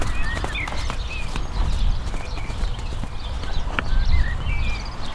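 A horse working on a circle in a riding arena, its hooves clip-clopping in a steady rhythm at moderate distance, with faint bird chirps in the background and no talk.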